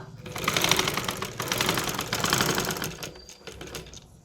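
Sewing machine stitching thread piping onto a canvas neckline, a steady, fairly loud mechanical whirr that runs continuously and eases off near the end, with no voices.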